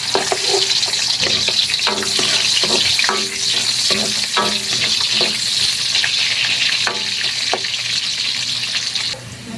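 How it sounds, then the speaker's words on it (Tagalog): Garlic, onion and ginger sizzle steadily in a hot pan for mussel tinola, with repeated scraping and stirring knocks over a constant frying hiss; no one speaks. "lagyan natin yung bawang sibuyas luya natin"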